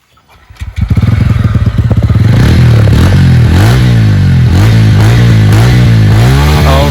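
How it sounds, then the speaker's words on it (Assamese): Loud, close exhaust of a TVS Ronin motorcycle that catches after a second, then settles into a deep throbbing idle broken by repeated revving swells. "আপোনালোকৰ সাইলেন্সাৰ মাত শুনাম এতিয়া"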